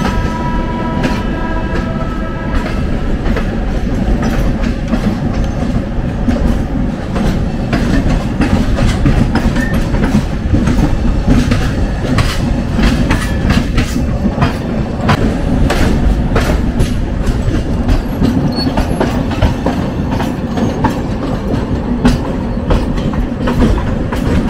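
Rumbling steadily on the rails from Delhi, the Rajdhani Express gives off a loud, continuous roar with rapid clickety-clack of wheels over joints and occasional metallic rattles, heard from inside without any talk.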